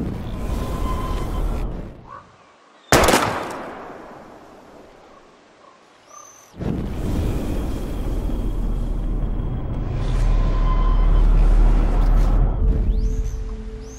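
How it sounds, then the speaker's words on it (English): Gunshots from a handgun firing at bottles in the video game Life Is Strange: one sharp loud blast near the start, another burst later, then sustained ambient game noise with background music. "We're gonna shoot all these bottles without wasting a single bullet."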